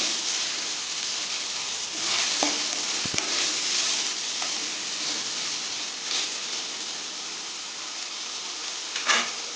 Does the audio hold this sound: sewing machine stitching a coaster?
no